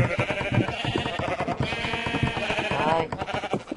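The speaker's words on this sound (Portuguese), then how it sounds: "Ai, ovelha." Sheep bleating in Minecraft, a few wavering game bleats rising over steady background game sound while a person talks throughout.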